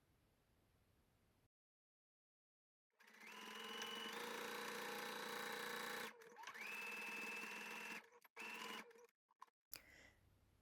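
A sewing machine runs steadily while stitching around the curved edge of a trouser fly shield, with a loud continuous whir, a short pause, a second run, then brief stop-start bursts, and no talk.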